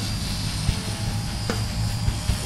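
A small Fokker Dr.1 micro RC airplane flies overhead, its tiny electric motor and propeller giving a steady high buzz amid outdoor wind noise, with a few faint bumps and a brief swish partway through.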